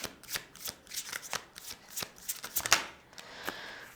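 Tarot cards are shuffled and drawn by hand: a rapid run of crisp riffling flicks and slaps, close and fairly quiet, with uneven bursts and a short pause before a final snap.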